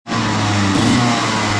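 A Rotax Max competition kart engine revs on track, loud and close, a steady high buzzing drone that climbs slightly in pitch partway through, with no talking.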